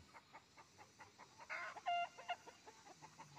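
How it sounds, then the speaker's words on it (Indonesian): Several chickens cluck in quick, uneven bursts nearby, with one louder squawk rising briefly in the middle. "Lah ini pitiknya mas petak-petok ini"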